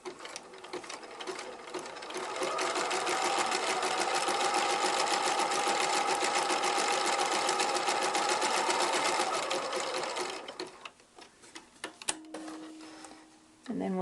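A sewing machine runs a zigzag stitch over a seam allowance, a close, rapid rhythmic whir sustained for about eight seconds, followed by quieter clicks and fabric handling.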